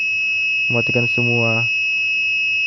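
An ESP32 IoT project alarm buzzer holds a steady, piercing high-pitched tone through the whole moment, with a short burst of speech briefly over it.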